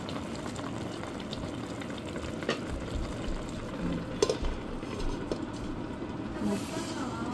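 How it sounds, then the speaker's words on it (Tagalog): Pot of Filipino nilaga soup simmering, a steady bubbling and faint sizzling hiss with a few soft clinks, heard up close with no talk. "Konting kulo na lang."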